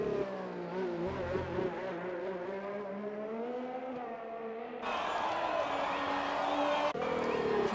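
A race car engine in a sim racing video game drones and shifts pitch as it brakes hard into a corner, then revs up under power. A commentator talks over the steady engine throughout.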